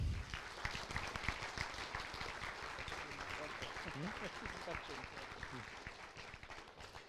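Applause in a hall at a doctoral ceremony, a faint, somewhat sparse clapping with distinct individual claps early, continuing under low voices and room murmur.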